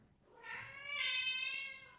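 An old, somewhat deaf cat gives a long, loud, drawn-out meow that rises and swells in two waves, close by with no talking.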